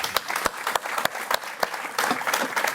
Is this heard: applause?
yes